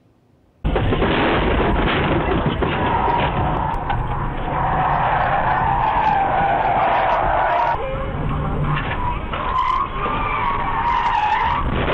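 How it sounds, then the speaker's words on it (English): Tires skid loudly in real crash footage of drivers distracted by phones, a sustained screeching, rushing roar that starts abruptly and runs continuously, with muffled voices underneath. "They assembled a video of real drivers getting into real accidents"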